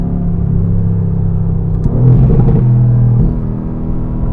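A Mercedes-AMG GT R's engine drones loud and close from inside the cabin on back roads, a steady low rumble that swells briefly as it revs up around the midpoint, then settles again.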